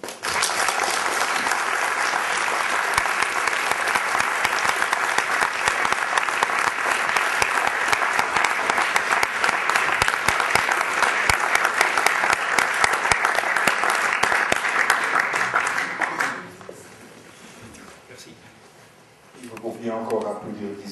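Audience at a sustainable-development conference applauds steadily for about sixteen seconds after a talk, dense clapping that then drops away to near quiet, with a faint voice and a brief burst of noise near the end.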